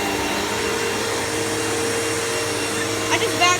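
A Hoover Elite Rewind Deluxe vacuum cleaner roars steadily at close range on carpet, a constant whooshing hum with a few small rattles near the end.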